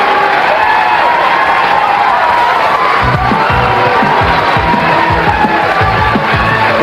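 A capacity crowd of spectators cheers and yells loudly and continuously at a bowling tournament at Gable House in Torrance, with the roar swelling partway through and whoops rising above it.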